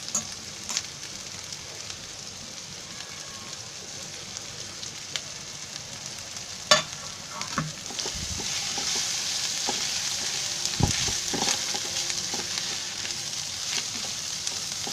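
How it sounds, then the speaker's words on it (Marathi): Grated fresh coconut frying in oil, with a continuous soft sizzle, occasional stirring scrapes and a few sharp clicks of a utensil against the pan. "आता त्याच्यामध्ये खोबरं टाकते."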